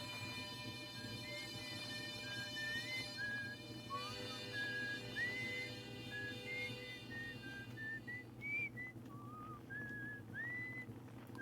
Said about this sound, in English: is the whistling what my character is doing in response to hearing music from somewhere else?